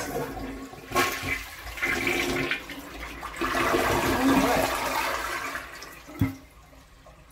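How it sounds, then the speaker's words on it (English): A toilet flushes after a bidet has been fitted, with the lid removed: a loud rushing gush of water swirling and draining for several seconds, then refilling, with a brief word spoken over it. "I'm gonna do another flush here"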